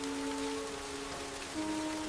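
Quiet, steady rain falling on a surface in a city by a river, a soft continuous patter with faint tonal hum underneath.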